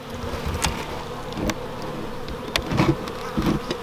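Honeybees buzzing around a hive, a close droning hum with individual bees passing near the ear, brief and without talk.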